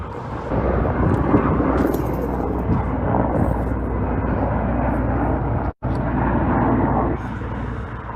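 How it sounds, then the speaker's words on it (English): A helicopter flies over a bad wildfire in El Dorado, California, heard as a steady, loud rotor and engine roar that fills the scene, broken by one very brief dropout near the end. "there's one helicopter on this portion of the fire"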